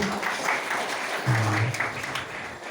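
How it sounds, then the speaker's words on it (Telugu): Audience applause at a Telugu Christian worship and praise gathering, clapping for a singing group of gospel singers; steady broadband clapping carries through the whole stretch with a low hum of sound underneath. "ఒకసారి బిల్ క్లాప్ కొడదామా వారి కొరకు"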